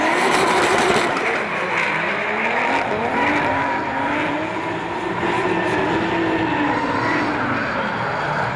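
Drift cars at Max Motors Wellington Speedway, in a D1NZ Pro Championship battle, scream through a big sweeping right-hander, with engine notes rising and falling and tyre noise, loud and continuous.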